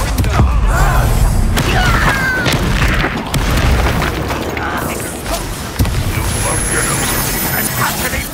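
A fiery blasting spell goes off in a Hogwarts Legacy battle: a loud, booming explosion near the start, followed by sustained crackling debris and rumbling effects, with another burst partway through and game dialogue spoken alongside.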